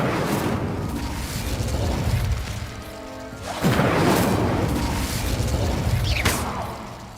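Casting the Incendio fire spell in the Hogwarts Legacy video game produces a dense, roaring whoosh of flame with crackling bursts, loud and sustained, surging midway and trailing off with a brief sweeping tone near the end.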